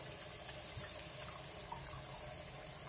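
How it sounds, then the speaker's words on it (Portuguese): Water runs steadily while 500 ml is poured for cuscuz paulista in a kitchen, a soft continuous splashing trickle at low level with no talking. "Vou colocar também, ó, 500 ml de água."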